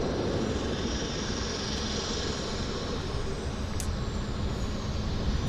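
An Air India airliner heading for Delhi roars steadily at Vancouver Airport, a broad, constant jet rumble held at an even, fairly loud level for several seconds with no voices over it.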